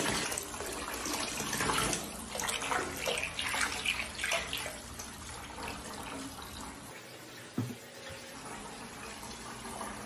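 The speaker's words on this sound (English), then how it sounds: "Someone in the comment section asked if I could pour Amelia a bath in her bathtub upstairs instead of mine." Tap water runs steadily into a bathtub upstairs as a bath is drawn, a continuous mid-level rushing splash with small bumps and clatters, alone with no talking.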